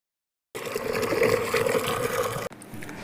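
Water is being filled from a tap or pump, heard as a strong steady gushing rush that begins abruptly after a silent start and runs for about two seconds before cutting off sharply.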